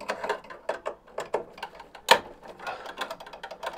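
A wrench ratchets in quick uneven clicks while undoing tight manifold bolts on a 10-year-old boiler, close and fairly loud, with one sharper metallic clack partway through and no talking.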